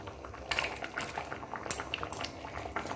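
Dal bubbles gently in a pot, a quiet stream of soft pops and liquid blips at close range with no talking.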